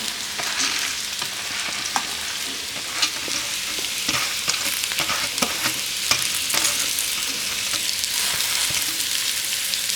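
Onion frying with moong and masoor lentils in a NutriPot, a steady, dense sizzle with scattered scraping stir clicks running throughout, fairly close and without any voices.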